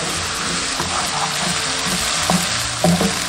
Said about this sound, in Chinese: 锅中倒油，下入牛肉，炒至变色，快速滑散。